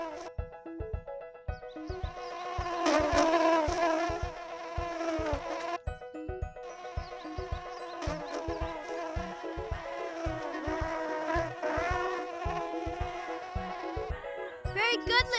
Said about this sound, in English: The bee is coming for its pollen.